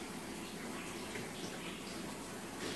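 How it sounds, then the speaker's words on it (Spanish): Water pours steadily into a small flan mold, a soft continuous gushing splash, faint and close. "Allá le eché ya agua al moldecito."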